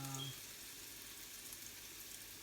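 Peppers and spring onion fry in a pan for spicy bean burgers, giving a faint, steady sizzling hiss throughout with no pauses.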